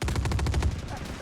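Rapid automatic gunfire in the shooter game DCS 3, a fast close-up string of about a dozen evenly spaced loud shots over about a second, with faint talk beneath.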